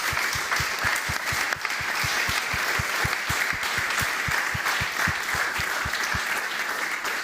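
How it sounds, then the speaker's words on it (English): Audience applause following a panel conversation at a leadership dialogue event, a steady dense wash of clapping from a large crowd, sustained and fairly loud throughout with no speech over it. "Give them a round of applause."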